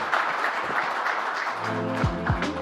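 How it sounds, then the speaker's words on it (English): Applause from the audience at a live Indo-Japan conclave, a broad, steady wash of clapping throughout, with a low humming tone and a brief pitch sweep rising underneath near the end. "A very, very warm round of applause for him"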